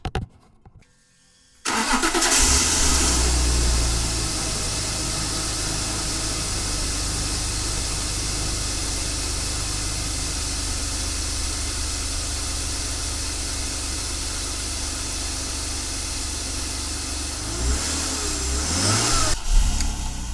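A BMW E36 starts after a brief quiet moment, the engine catching abruptly and settling into a steady, loud idle, with a short rise in revs near the end; this follows an alternator replacement.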